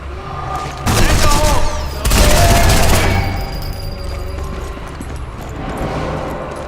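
Bursts of rapid gunfire in the World War II sniper video game Sniper Elite 4, two loud dense volleys in quick succession, followed by a softer trailing rumble and fainter shots.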